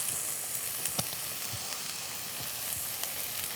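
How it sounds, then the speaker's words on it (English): Onion sautéing with a little salt in a pan inside a Gozney pizza oven, a soft steady sizzle broken by scattered light pops and spatula taps, fairly quiet and without talk. "We want to saute these down, let them get about semi-translucent."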